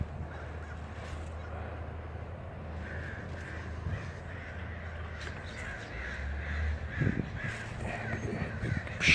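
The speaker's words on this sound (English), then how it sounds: "Lots of crows." Crows cawing outdoors in wet grassland after rain, repeated harsh caws from several birds at a moderate distance over steady wind noise, with a brief voice now and then.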